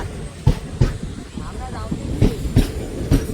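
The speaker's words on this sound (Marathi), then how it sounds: "ट्रेन आलेली आहे आपली." Rhythmic clickety-clack of a train rolling into a station over rail joints, with regular heavy thumps and a steady rumble; voices talk in the background.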